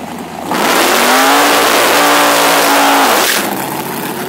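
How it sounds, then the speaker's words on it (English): Car doing a burnout at a drag strip, the engine roaring loud and steady for about three seconds with tire-spin hiss, then cutting back to a quieter idle. "Good burnout, perfect burnout."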